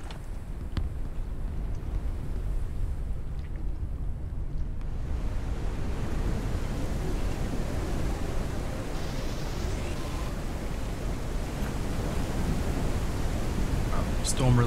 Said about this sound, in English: Caution. A storm is coming.